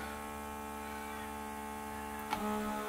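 Several small vacuum pumps for a DIY 3D printer filament storage setup run together as a low, steady electric hum, faint and continuous, with a slight bump near the end.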